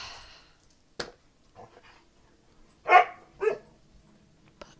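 A dog gives a few scattered, fairly faint barks in an otherwise quiet room, with a single bark early on, then two closer, louder barks in quick succession and a last brief yip.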